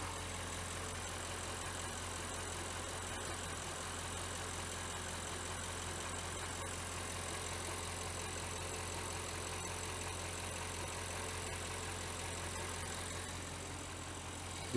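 An Audi 4.0 TT engine idles with the hood up in a steady, even drone, its valve train ticking loudly throughout at moderate distance.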